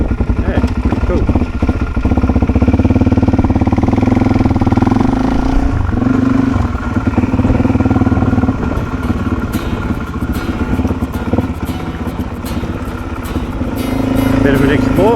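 A Suzuki DRZ400 motorcycle engine drones steadily and loudly while riding out on Duck Creek Road, its pitch shifting as the throttle rises and falls, with wind buffeting and a voice speaking over it.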